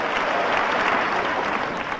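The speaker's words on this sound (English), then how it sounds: "Clap your hands, you understand what I'm saying tonight." A church congregation clapping hands together, a dense, continuous wash of applause at steady loudness through the whole two seconds.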